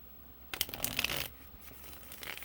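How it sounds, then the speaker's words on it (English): Oracle cards are shuffled briefly up close, a quick papery riffle, quiet and lasting about a second. "Let's give a shuffle"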